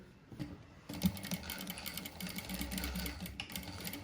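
A sewing machine stitches a dart on a back-open saree blouse, a close, steady rapid mechanical whirr with faint clicks, running alone after a short pause.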